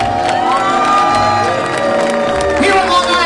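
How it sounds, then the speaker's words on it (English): Wedding guests on Long Island clap and cheer for the bride and groom, a loud crowd of applause mixed with whoops, shouts and excited chatter all the way through. "give them a big round of applause"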